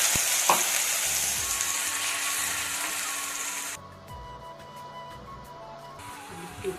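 Onion and ginger paste sizzles loudly in hot oil for a village-style soybean sabji, with a steady bright frying hiss that drops abruptly partway through, leaving quieter crackling and faint stirring.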